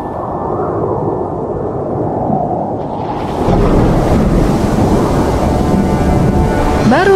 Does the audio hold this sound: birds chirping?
no